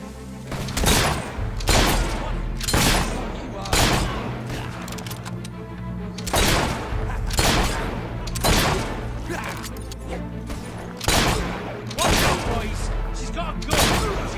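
Repeated gunshots in the video game Fable 3, heavy booming bursts spaced about every second or two over a low rumbling backdrop.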